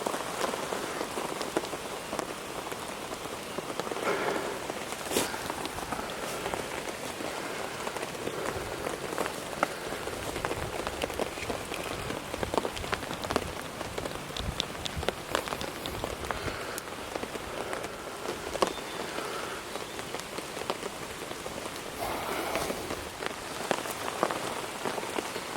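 Steady rain patters continuously on surfaces around an outdoor campfire mixed grill, a dense, even hiss of drops with occasional sharper taps, moderately close and unbroken throughout.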